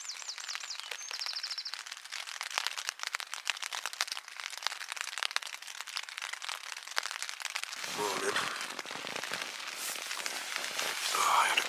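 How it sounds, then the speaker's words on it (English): Rain patters steadily on a tent close by at night in the Scottish Highlands, a dense crackling of drops that grows slightly louder toward the end. "enjoy the sound of the rain on the tent"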